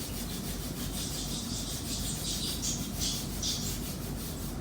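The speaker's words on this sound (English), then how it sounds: "come to rub your feet," Hands rubbing the feet during a gentle yoga session, a steady close rhythmic brushing of skin with repeated soft swishing strokes, continuous and without talk.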